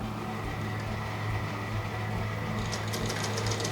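Sewing machine running steadily while stitching Ankara fabric for a hair bow, a continuous close motor hum with needle clatter that sharpens toward the end, with no talking.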